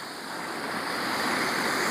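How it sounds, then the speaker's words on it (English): A tiny waterfall in Scotland sends up a steady, even rush of falling water, a continuous broadband hiss heard from some distance with no other sounds over it. "you can see the waterfall just right in the background, the tiny wee waterfall"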